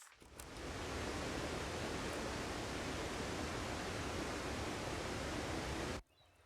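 A steady rushing roar of a video game waterfall starts abruptly, holds constant and loud for several seconds, then cuts off suddenly.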